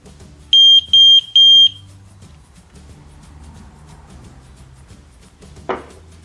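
An ELRO water alarm being added to an app gives three short, loud, piercing beeps in quick succession, followed by quiet room tone and a single sharp click near the end.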